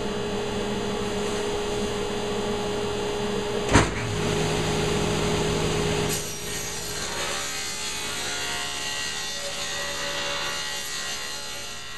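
A saw cuts through an 18 by 26 inch wooden top board for a shop-made fly tying bench, giving a continuous rasping buzz with a sharp knock near four seconds and a slight drop in tone partway through.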